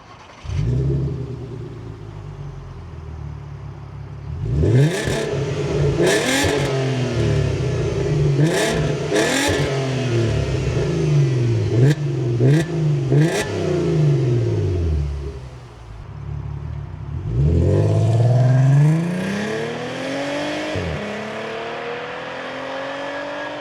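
A 2007 VW Passat 3.2 VR6 with a modified exhaust revs in several sharp bursts, then roars as it accelerates away, and the sound fades slightly.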